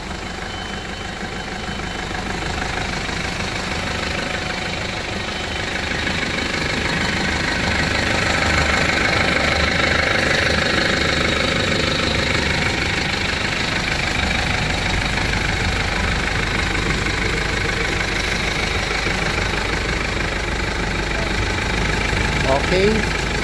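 Mitsubishi Pajero engine idling with the hood open, a steady loud mechanical drone with continuous vibration running throughout, close by, while people talk over it.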